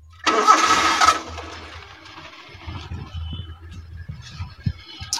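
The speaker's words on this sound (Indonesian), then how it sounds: "Kita coba nyalakan mesinnya," A 1994 Daihatsu Zebra 1.3 diesel cranks briefly with the starter, then catches and settles into a low, uneven idle clatter, close by.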